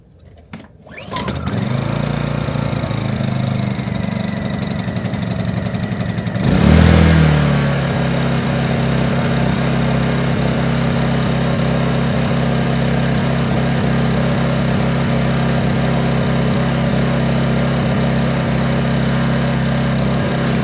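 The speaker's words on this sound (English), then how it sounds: "So the generator is running. It is really very quiet in comparison to the other generator that I had for a couple of days." Honda EU2200i inverter generator pulled into life, catching after a moment, then settling into a steady even running drone with a brief rise in revs, close by and continuous for about twenty seconds.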